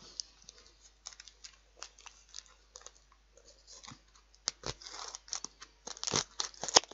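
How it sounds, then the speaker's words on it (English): A knife chops an onion in a home kitchen, producing quick, close clicks and crunchy taps on a board in loose bursts that grow louder and denser toward the end. No one speaks. "I'm going to chop the onion up"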